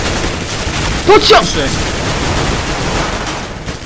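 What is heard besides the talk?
gunfire in the video game CS:GO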